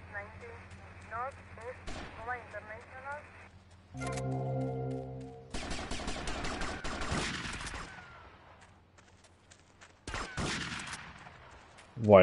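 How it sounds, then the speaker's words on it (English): Shotgun fire in the video game GTA Vice City, several loud sharp blasts scattered among game music and sound effects, with people talking over parts of it. "That shotgun dirty."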